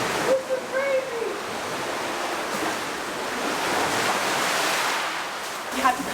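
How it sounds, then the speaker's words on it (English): Ocean waves surge into a tropical island sea cave at low tide, a loud continuous wash and roar that swells and recedes, with brief voices or calls near the start and end. "The waves come into the caves."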